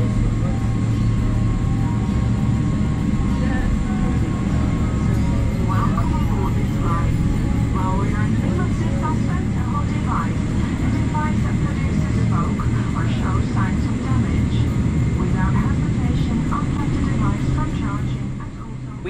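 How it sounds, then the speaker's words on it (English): Steady low cabin rumble and engine hum inside a KLM airliner in premium economy as it taxis toward the runway, a constant droning background with faint higher whines throughout. "taxi to runway 9 via November and November 7. Now please enjoy this unedited takeoff."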